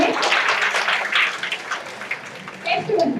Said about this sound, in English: You clap your hands for him.